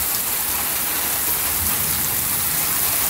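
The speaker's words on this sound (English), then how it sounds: "Now it's heavy rain." Heavy thunderstorm rain pours in a dense, steady roar of hissing drops, loud and constant throughout with no pauses and no voices.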